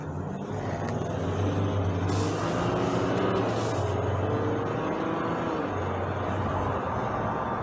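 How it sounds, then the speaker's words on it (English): A 2021 Jeep Gladiator EcoDiesel pickup accelerating, a steady low diesel engine drone heard close from inside the cab with a couple of brief hissing bursts, no talking. "as soon as I touch the accelerator pedal on this one, it just kind of takes off"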